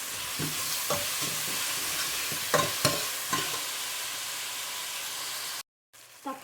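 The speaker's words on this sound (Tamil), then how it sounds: "தக்காளியும் நல்லா நைஸாக வதக்கிக்கலாம்." Tomatoes and onions sautéing in a pan, a continuous close sizzle with a few sharp scrapes and taps of a spoon stirring, ending in a brief cut to silence.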